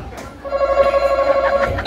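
A telephone ring used as a quiz buzzer at a birthday party game sounds as a steady electronic trilling tone for about a second and a half, fairly loud, with brief voices around it.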